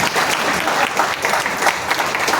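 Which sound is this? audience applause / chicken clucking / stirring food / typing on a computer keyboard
audience applause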